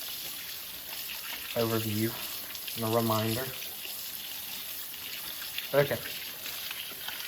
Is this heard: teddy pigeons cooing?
no